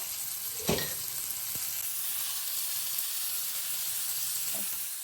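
Sesame oil sizzles and hisses steadily in a hot pan at the start of a chicken ramen broth, a dense continuous crackle close by, with a brief knock early on and no talking.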